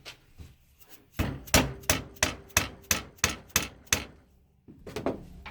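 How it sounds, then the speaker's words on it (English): A hammer taps repeatedly on the screw bosses of a motorcycle engine case while a kickstarter is being removed: about nine sharp, evenly spaced metallic knocks, close and fairly loud, then a brief pause and a few more taps. "I'm only tapping on the bosses for the screws"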